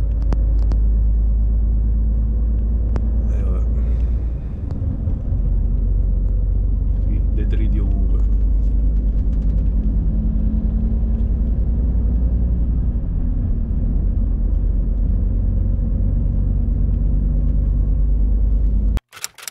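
A truck drives along a road once traffic has cleared, giving a loud, steady low engine rumble and road noise throughout, with someone talking over it at times.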